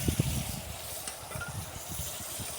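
Brinjal pieces frying in a pan, a soft sizzle with a few stirring scrapes near the start, quiet and close, no talk.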